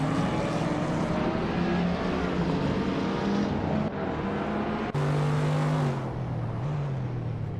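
A 2010 Audi TT RS race car engine drones steadily in a racing video game, a sustained tonal hum with pitch shifts as it shifts and accelerates, mid-loud and continuous without talk.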